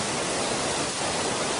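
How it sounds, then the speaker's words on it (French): A waterfall in Morocco, a mountain cascade dropping roughly 20 to 30 metres, roars as a steady, dense wash of falling water with no other sounds. "c'est une cascade, c'est une chute d'eau à peu près de 20 à 30 mètres"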